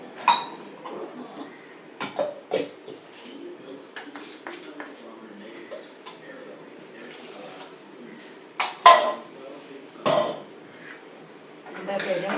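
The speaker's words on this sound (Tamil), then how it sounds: "சிம்மில் வச்சே தான் கிளறணும், அடி பிடிக்காம கிளறணும்." A spoon stirs rice payasam made with Mappillai samba rice, cashews, walnuts and coconut in a pot over low heat, with soft scraping and a few sharp clinks against the metal under a talking voice.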